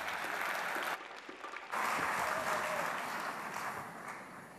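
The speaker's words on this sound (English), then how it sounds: "continue to ululate and applaud" Sustained crowd applause from a conference audience at an investment event, loud and continuous with a short lull before it swells again, likely mixed with ululation.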